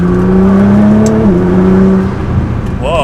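A Nissan GT-R engine with an upgraded turbo accelerates hard, a loud steady rising drone that holds for about two seconds, then dips and fades as the revs drop, with no voices.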